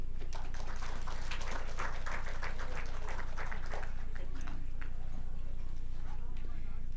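Steady applause from an audience honoring social dancers at an outdoor Choctaw mound ceremony, sustained clapping over a low background hum, with a voice speaking over it.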